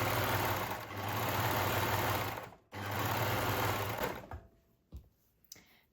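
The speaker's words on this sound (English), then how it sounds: "I'm gonna use the overlocker" Overlocker sewing machine running along a fabric edge, two loud, fast motor bursts with a brief stop between, then quieter clicks and handling sounds as it halts.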